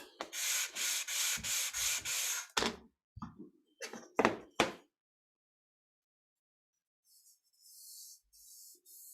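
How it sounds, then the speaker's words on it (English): Coarse, rough-grit sandpaper scrubs across wood for a ukulele build, in several quick back-and-forth strokes followed by a few sharper bursts, then a pause and faint strokes at the end, close and fairly loud. "Fairly coarse sandpaper."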